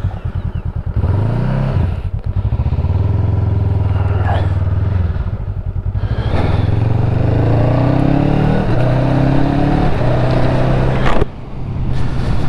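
A 2022 Honda Rebel CMX500 motorcycle is ridden, its engine loud and close as it revs up through the gears, drops back and pulls away again with rising and falling pitch.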